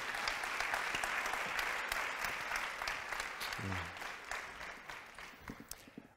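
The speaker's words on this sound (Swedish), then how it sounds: "Ja, en applåd, absolut." Audience applause at a Swedish business event, steady broadband clapping that runs throughout and slowly thins out toward the end, with no talk over it.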